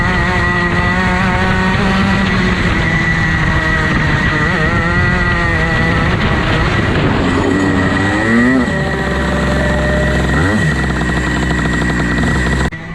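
A racing kart's engine drones loud and close, rising and falling in pitch as it corners on the Clay Pigeon circuit, then bogs and changes tone as the kart spins out with oversteer.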